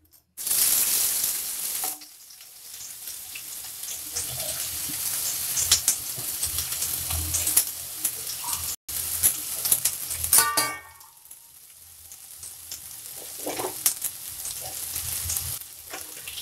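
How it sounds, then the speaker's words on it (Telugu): Chopped onion and green chilli pieces dropped into hot oil and frying, a loud burst of sizzling that settles into a steady hiss, with brief stirring clatter and a dip midway before the sizzle swells again. "ఆయిల్ హీట్ ఎక్కిన తర్వాత కట్ చేసి పెట్టుకున్న ఉల్లిపాయ ముక్కలు, పచ్చిమిరపకాయ ముక్కలు ఇందులో వేసుకోవాలి."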